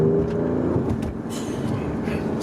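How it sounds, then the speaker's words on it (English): A 2019 Alfa Romeo Giulia Quadrifoglio engine rumbles loudly and close, with a low throaty drone that shifts slightly in pitch. "This car sounds so nice."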